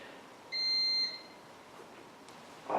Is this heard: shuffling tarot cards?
no